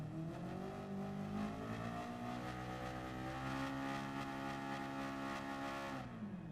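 A Cadillac race car engine in Gran Turismo 7 revs and holds a steady, loud, rising engine note for several seconds before cutting off near the end.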